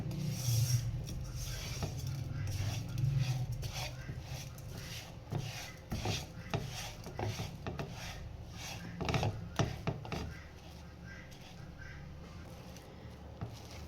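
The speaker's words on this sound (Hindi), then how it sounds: "ये देखें इस तरह हम चम्मच चलाते रहेंगे। चम्मच को रोकना नहीं है।" A spoon is stirred steadily through coconut macaroon mixture cooking in a pan over low heat, making soft repeated scraping and rubbing strokes with a few sharper knocks, close and fairly quiet, with no talking.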